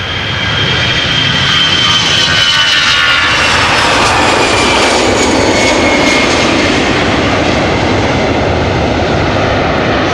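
An Aer Lingus jet airliner departs Amsterdam Schiphol Airport with a loud, sustained engine roar and whine, close and steady throughout, with no talk.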